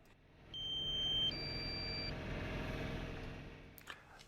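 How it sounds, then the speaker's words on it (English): A drone's low-battery warning sounds as two sustained electronic beep tones, one stepping up to a higher pitch, lasting about a second and a half over a low engine rumble in a snowy outdoor setting. "so I apologize for the beeping"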